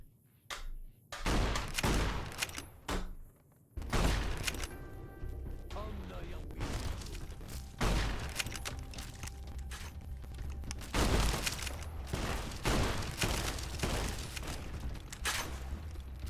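Gunfire from a weapon in Fallout New Vegas, loud and dense, with repeated booming shots and crashing impacts over a continuous stretch of combat noise, and a player's voice talking at times.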